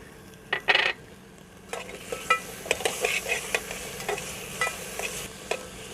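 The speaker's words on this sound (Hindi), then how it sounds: "इसको अच्छी तरह भूनेंगे, इसके पानी अच्छी तरह खुश्क हो जाए।" Pumpkin halwa with raisins and almonds being stirred and fried dry in a pan: a couple of sharp utensil clinks, then a steady low sizzle under repeated scraping strokes, close and fairly quiet.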